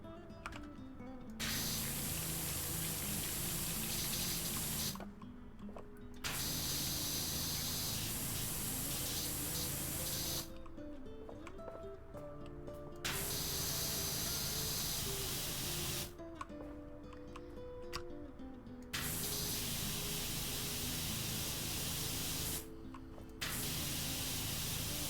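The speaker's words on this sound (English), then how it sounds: "now I'm going to be spraying water at an active generator" A pressure washer sprays water at an active generator in PowerWash Simulator, a loud, steady hissing spray that runs in long bursts of several seconds, broken by short pauses when the trigger is released.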